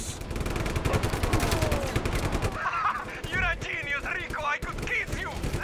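Rapid, loud bursts of video game cannon fire come in a fast repeating rhythm, then give way to a voice talking over fainter shots.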